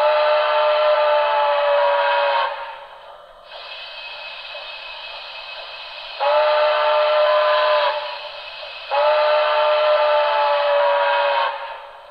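Broadway Limited model steam locomotive sounding whistle zero, three long chime-like blasts with a softer hissing tone between them, loud and close with no talking.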